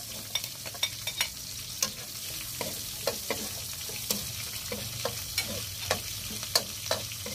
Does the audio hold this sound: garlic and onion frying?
yes